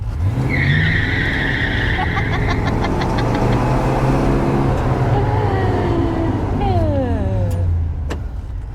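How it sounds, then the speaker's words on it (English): A 1969 Dodge Polara 440 ex-CHP police car launches, engine roaring at high revs as tires squeal loudly and continuously, pitch climbing through gears; people talk over the noise. "Let's see if we can launch this car."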